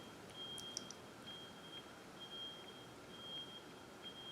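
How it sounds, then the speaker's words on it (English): A thin, high electronic beep tone keeps sounding in intermittent stretches over a quiet room hiss, steady in pitch and not very loud. "do you hear that? That loud beeping?"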